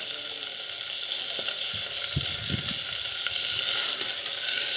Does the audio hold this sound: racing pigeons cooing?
no